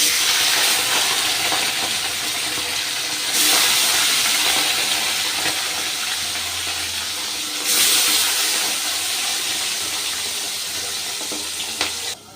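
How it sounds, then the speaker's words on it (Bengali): Desi bacha fish from the Ganges frying in well-heated oil in a home kitchen, giving a steady, loud hissing sizzle that runs throughout and swells in two brief surges. "তেলটা আমি খুব ভালো করে গরম করে নিয়েছি। এবার মাছগুলো ভেজে নেব।"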